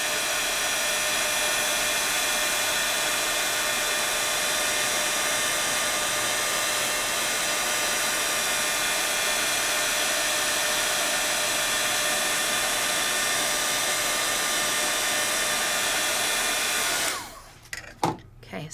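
A heat tool blows and hums without a break, close and loud, as it melts embossing powder for a white finish. The steady hot-air rush runs for about seventeen seconds and then cuts off.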